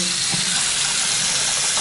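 Hot water runs hard from a tap in a vintage bathroom with good water pressure, a steady, close, even rushing hiss that continues throughout.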